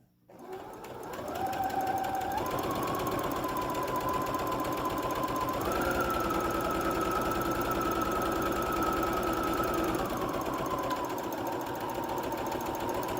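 A sewing machine stitches through layers of a cloth face mask, a steady close whirring drone that starts after a brief pause, shifts pitch slightly as speed changes, and runs on unbroken.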